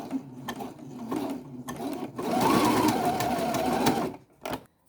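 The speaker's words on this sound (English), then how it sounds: "I'm gonna zigzag over it to hold the 2 ends together." A sewing machine runs a zigzag stitch over the joined ends of elastic, whirring loud and close in a steady two-second burst after a few short starts and clicks.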